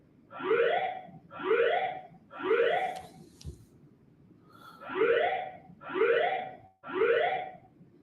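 A building fire alarm sounding in a repeating pattern of rising whooping tones, six clear cycles with a brief break in the middle, loud and alone without voices.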